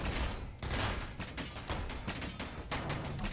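Rapid gunfire from an assault ship in the Space Engineers video game, heard as a dense, continuous volley of sharp shots rattling on for the whole stretch, fairly quiet, with no speech.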